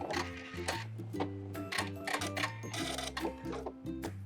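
A sewing machine back stitches through elastic while sewing DIY thong underwear, its needle running in quick bursts of mechanical chatter with brief pauses between, fairly close and steady.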